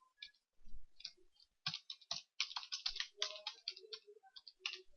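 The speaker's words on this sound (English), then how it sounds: "And I will put my password." Keys on a computer keyboard tapped in quick irregular bursts while a password is entered, close and crisp, with short pauses between runs of clicks and no voices.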